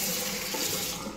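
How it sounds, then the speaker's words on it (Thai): Tap water runs steadily into a sink in a resort guest room bathroom in Chanthaburi, a close, continuous broadband splash with no talk over it. "ก๊อกน้ำ"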